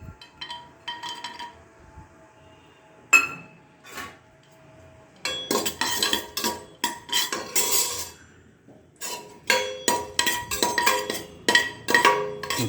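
A utensil clinks and scrapes against a metal pan while raisins and cashews are fried in ghee for ghee rice. The sharp, irregular metallic taps come in clusters after a few quieter knocks, with little sizzle audible.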